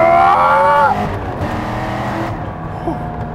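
A Pratt & Miller C6RS with an 8.2-liter all-aluminum K-Tech V8 making 600 horsepower, a loud rising engine howl at the start that breaks off into a lower, steadier rumble.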